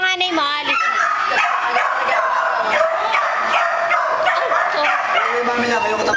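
A dog barks and yips repeatedly in quick, uneven bursts, loud and close, with whimpering mixed in. People talk over and around the barking.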